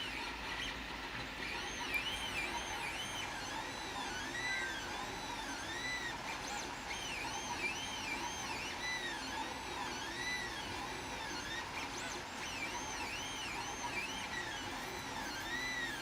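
A 3D printer runs steadily, its stepper motors whining in repeating rising and falling tones over a constant mechanical hum, fairly quiet and alone throughout.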